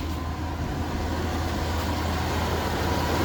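A 1999 Chevrolet Suburban 2500 LS 4x4 idles smoothly with a steady, even low rumble and no stumbles, heard close and alone without talk.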